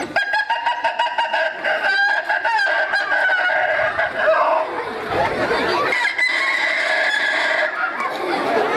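A man imitates a rooster crowing and clucking, a loud continuous run of close, fowl-like vocal calls with varying pitch, with a crowd faintly audible in the background.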